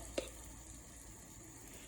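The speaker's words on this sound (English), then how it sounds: "And you should hear a nice sizzling sound." A sweet potato fritter in butter in a pan gives a soft, steady sizzle with a single brief clack near the start, faint and alone with no voices.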